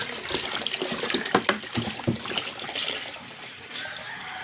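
Tap water pours steadily into a 15-liter container, a continuous splashing trickle close by with small gurgles and bumps.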